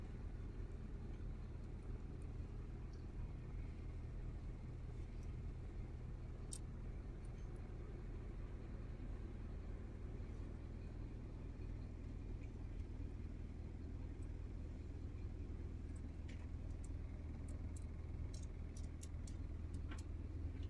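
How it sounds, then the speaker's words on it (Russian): Steady low rumble of a Polish minibus carrying passengers toward a railway station near the Medyka–Shehyni border crossing, an even engine and road drone filling the whole stretch with faint ticks and clicks above it. "мы сидим уже в польской маршрутке которая завезет нас на вокзал"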